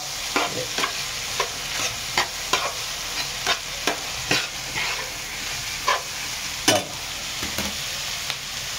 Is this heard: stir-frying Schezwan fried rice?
yes